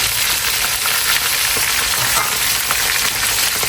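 Fried chicken pieces crackle and sizzle steadily in a pan of hot oil, a loud, dense, continuous spitting hiss close by with no talking.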